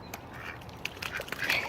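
Backyard ducks with teal, green and purple plumage quack quietly, a few soft calls scattered over a faint outdoor background.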